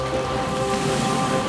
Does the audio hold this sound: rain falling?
yes